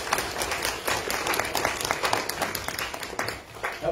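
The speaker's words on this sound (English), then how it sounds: "Big round of applause." Steady, dense applause from a crowd, a continuous wash of clapping at moderate distance with no pauses.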